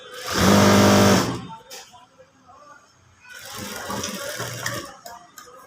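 A sewing machine stitching a boat neck blouse runs in a loud steady whir for about a second, then a quieter, longer stretch of stitching follows after a pause.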